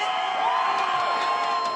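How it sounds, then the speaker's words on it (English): A loud crowd cheers and whoops in an arena at the Overwatch World Cup finals, a continuous roar of many voices with shouts rising and falling within it. "this crazy loud crowd behind us"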